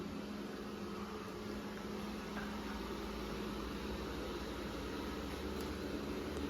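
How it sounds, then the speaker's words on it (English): A Roborock Qrevo S robot vacuum runs indoors with a steady, soft whirring hum that holds an even level throughout, with no talking over it. "And you can see the vacuum. It's moving."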